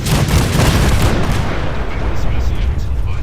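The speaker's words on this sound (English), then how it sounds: "The cannons are ready. Fire at will." Cannons fire warning shots in a video game, a loud, dense barrage of overlapping booms and blasts that rumbles on continuously without pause.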